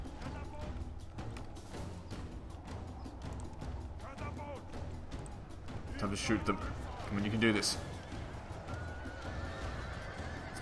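Cavalry horses in a medieval crusader strategy game, several loud whinnies and neighs with clip-clop hooves and battle clatter, peaking midway, under someone talking throughout.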